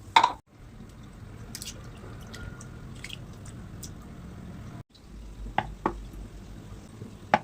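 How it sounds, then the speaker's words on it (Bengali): Masoor and mung lentils are rinsed in water, giving soft scattered drips and small splashes with a quiet watery wash underneath, close by and without talk. "হাফ কাপ মসুর ডাল, 1 কাপ মুগ ডাল পরিষ্কার পানি দিয়ে খুব ভালো করে ধুয়ে নেব।"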